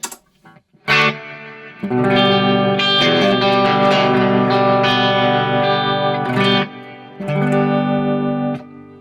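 Distorted electric guitar chords with reverb from a Headrush Live rig through a PA, sustained and ringing, a short pause then another strummed chord, loud and close.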